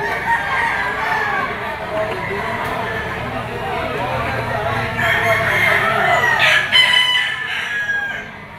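A yellow-legged, straight-combed pumpkin sweater gamefowl rooster crows loudly at close range, one drawn-out call with clucking around it, while someone speaks over it.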